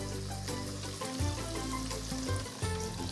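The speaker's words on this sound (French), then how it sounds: "On vient dans notre pâte à frire et on va dans la friteuse, tout simplement" Battered fish pieces dropped into a deep fryer for fish and chips, the hot oil bubbling and hissing steadily, with a few louder gurgling surges as pieces go in, close and continuous.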